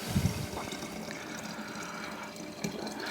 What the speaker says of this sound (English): we'll just put the rest of our juice in here